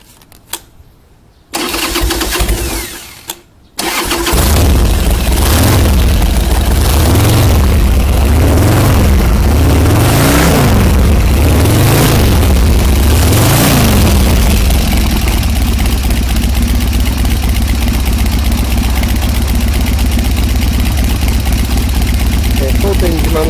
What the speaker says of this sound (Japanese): ではエンジンをかけます。